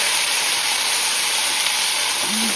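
Onions, green chillies, curry leaves, ginger, garlic, tamarind and tomatoes sautéing in a pan for a dosa chutney, giving a steady, close frying hiss that runs unbroken throughout with no voices.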